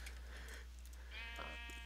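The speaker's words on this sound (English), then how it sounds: "Here's the sheep." A sheep bleats in Minecraft, with one short wavering bleat partway through over a low steady hum and faint background noise.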